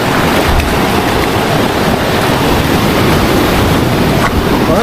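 Strong ocean waves at a beach spot crash and surge in a continuous loud roar, close by, with wind buffeting the microphone and no voices.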